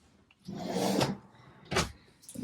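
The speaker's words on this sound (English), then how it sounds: "nice bit of bottom drawer" Bottom drawer in the kitchen of a 2021 AUSRV XL15-4 off-road caravan sliding along its runners with a soft rumble, then closing with a sharp thud, followed by a fainter knock, close and quiet.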